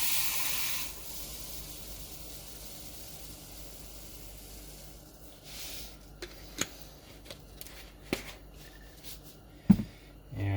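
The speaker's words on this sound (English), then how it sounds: "I'm going to get some powder in the bowl here." Gunpowder is poured into a scale bowl while hand loading .223 ammunition, a brief granular hiss at the start followed by quiet room tone and a few scattered light clicks and taps.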